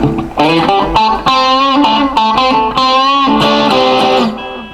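Distorted electric guitar through a Boss multi-effects unit plays loud, close sustained chords and bends in a short rhythmic run, ringing out and tapering at the end.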